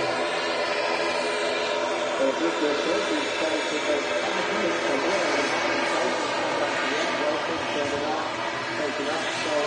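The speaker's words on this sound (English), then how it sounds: "The Ryanair 737-800. It's going to initiate the takeoff roll right in front of us." A Ryanair Boeing 737-800 at Manchester Airport prepares for its takeoff roll, its engines giving a steady, loud whining roar with layered tones, while voices talk over it.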